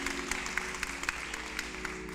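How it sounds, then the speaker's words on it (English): Audience at an awards reception in Kentucky applauding steadily, a dense wash of clapping with scattered louder claps, holding at an even level throughout with no speech over it. "Yeah, go ahead, you clap up for that."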